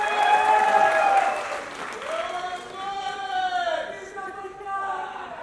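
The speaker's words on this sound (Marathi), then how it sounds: "एकदा जोरदार टाळ्या सरांसाठी" Loud audience applause fills a packed hall at a film trailer launch at Gaiety, starting at full strength and then thinning out while voices and cheering carry on over it.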